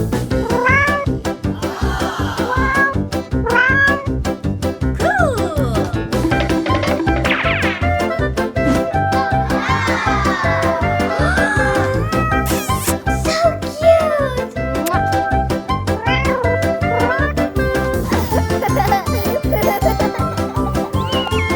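Kittens meow repeatedly and loudly over a busy music track, with rising and falling cries coming at an uneven rhythm throughout and close at hand.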